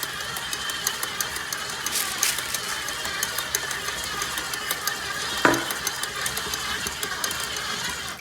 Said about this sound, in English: It's really doing a number on this mixer